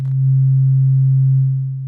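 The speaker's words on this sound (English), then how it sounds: "simple sine wave." A Eurorack synth oscillator puts out a simple sine wave, a single steady pure tone held for about two seconds that swells in and fades slightly at the end, heard alone with no other sounds.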